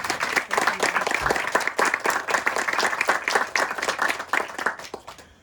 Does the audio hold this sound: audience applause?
yes